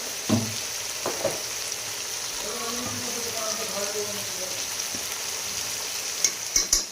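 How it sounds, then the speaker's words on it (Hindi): Chicken fries in a pan with a continuous low sizzle through the whole stretch and a few soft stirring knocks, ending in sharper clatters near the close. "इधर साथ में हम चिकन फ्राई कर रहे हैं"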